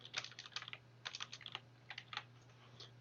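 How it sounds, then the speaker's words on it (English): Keys clicking on a computer keyboard as blog tags are typed, with quick irregular bursts of light taps separated by short pauses over a steady low electrical hum, faint and close. "So we'll type in a couple of tags."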